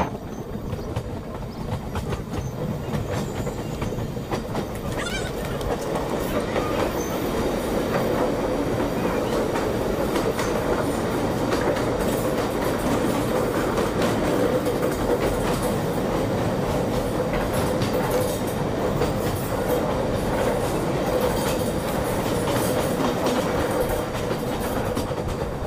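Steady rumble and rhythmic clatter of the 13152 Jammu Tawi Express running on tracks through Jharkhand and Bihar, heard from inside the carriage, loud and continuous with wheel clicks throughout.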